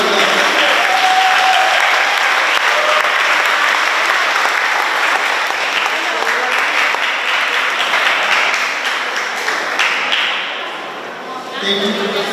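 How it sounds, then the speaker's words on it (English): A big round of applause from the audience at an Education Week 2022 awards ceremony, honouring Department of Education staff for 20 years of service; dense, loud clapping fills the room steadily, then thins and fades toward the end. "Let's give them a big round of applause."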